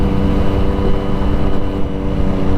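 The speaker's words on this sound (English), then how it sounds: "although this exhaust is quite loud" A Triumph Daytona 675 motorcycle's loud aftermarket exhaust drones steadily while riding, a constant engine hum and rumble heard up close with wind noise and no talking.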